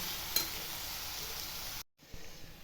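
Cooked jackfruit seeds and bean leaves for a thoran, mixed in a hot pan: a brief, even sizzle with a faint stirring tap, cut off by a short silence, then quieter frying resumes.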